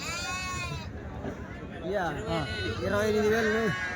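Sheep bleat repeatedly from close by at a livestock market in Kadiri, several overlapping wavering calls from a flock, with some background chatter.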